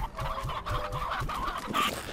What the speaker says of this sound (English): I know you guys want some chickens.